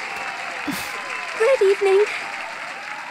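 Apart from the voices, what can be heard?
audience applause in Detective Pikachu video game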